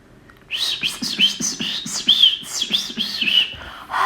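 Birds chirping in quick repeated high tweets and short whistled notes, a lively close-up rhythmic run of calls that starts after a brief quiet moment, with no one talking.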